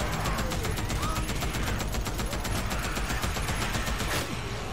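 Rapid sustained automatic gunfire in Days Gone rattles loud and continuous for several seconds against a horde at an old sawmill, then cuts off near the end, with shouting mixed in.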